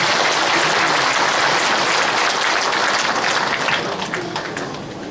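Warm applause from an audience at a Korean founding ceremony for a constitutional reform group, after guests are introduced; dense, steady clapping that fills the room and slowly fades toward the end.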